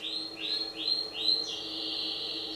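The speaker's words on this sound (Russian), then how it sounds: "Не пойму, моя птичка." A small bird chirps nearby in a quick run of bright, rising chirps, then holds a longer high whistling note, clear over a quiet background.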